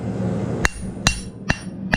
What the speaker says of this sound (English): I'm hitting with my hammer half on the anvil and half off the anvil